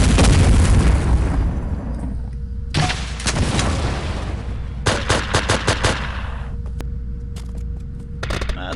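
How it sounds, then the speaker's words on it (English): Rockets and gunfire in Project: IGI aimed at an armoured personnel carrier, heavy booming blasts followed by bursts of rapid shots and several sharp reports, loud and close with a rumbling tail. "We'll just rocket launcher the APC and then take out the guys hanging around here at our leisure"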